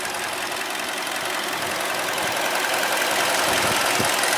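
A Hyundai Elantra GT's 1.8-liter port-injected engine, rated 148 horsepower, idles close by with a steady, even rumble and a faint knocking tick, running alone without voices.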